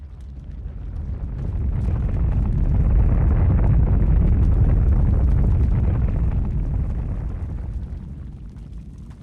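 A nuclear explosion in the Arma 3 video game, set off by a cruise missile over an airfield, swells into a huge low roaring rumble that builds, holds and slowly fades, loud and without voices.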